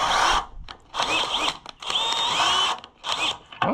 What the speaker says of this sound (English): I think if we can just cut some threads